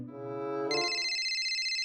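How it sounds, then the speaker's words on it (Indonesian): A phone ringtone in an animated cartoon, starting with a low tone and then jumping to a steady high repeating electronic ring that carries on alone and fairly loud. "Bentar ada telepon."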